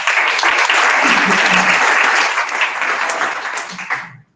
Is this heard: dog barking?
no